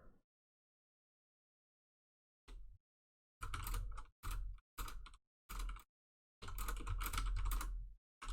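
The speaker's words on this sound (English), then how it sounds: "You can hear me typing aggressively, I'm sure." Bursts of fast, hard typing on a computer keyboard, close and crisp, arriving in several clusters separated by short silences, with a long sustained flurry near the end.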